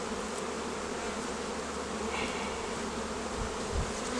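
Honey bees from an overwintered colony buzz steadily around an opened hive stack during a spring brood box reversal, a dense continuous drone that stays close and loud with no voices.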